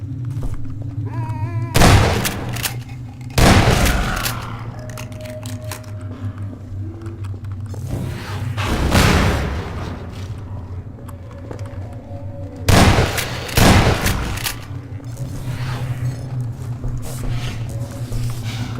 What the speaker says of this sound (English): I'm probably just going to use a shotgun because the game just wants to give me infinite shotgun ammo